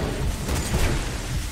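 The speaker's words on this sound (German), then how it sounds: "Ach, das ist doch hier eine Kanone." A cannon fires in the Werewolf: The Apocalypse game, a dense, booming burst of noise that fills the whole moment and rumbles loudly from start to finish.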